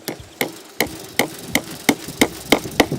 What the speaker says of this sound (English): So now we're ready to nail the wire on